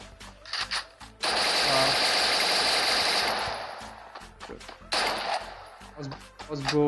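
Rapid automatic gunfire bursts in the Free Fire Battlegrounds video game, one long sustained volley followed by shorter shots, loud and close, with someone talking between bursts.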